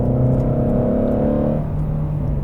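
Ford Mustang GT350R engine droning steadily and loud while the car brakes under load, a low harmonic rumble that shifts down in pitch near the end as it slows.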